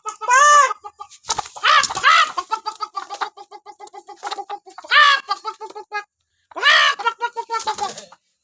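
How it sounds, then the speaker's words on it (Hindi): A hen clucks and squawks repeatedly up close, with bursts of loud cackling between runs of short, rhythmic clucks. "ध्यान से देख लीजिए, ये मुर्गी ही है, मुर्गा नहीं है।"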